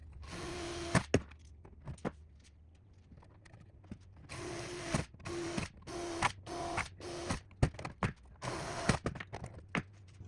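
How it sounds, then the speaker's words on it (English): Match drilling through cowl louvres on a Cessna 150 with a 160 hp engine, a series of short sharp drill bursts at close range, separated by pauses and handling clicks. "So that's been match drilled."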